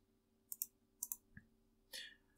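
Computer mouse clicks while setting up an iSCSI disk on TrueNAS, two quick double clicks followed by a single click, faint and close in a quiet room, with a brief rustle at the end.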